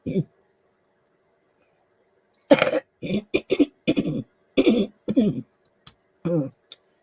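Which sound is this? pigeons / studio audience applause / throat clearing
throat clearing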